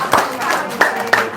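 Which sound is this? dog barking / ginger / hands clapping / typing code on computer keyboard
hands clapping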